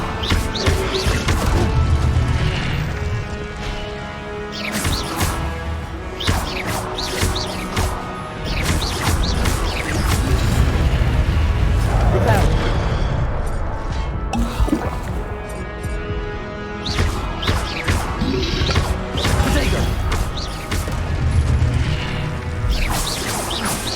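Fire spell blasts in Hogwarts Legacy erupt in loud, dense bursts of crackling impact, repeated in waves over a continuous roaring backdrop with brief quieter gaps between volleys.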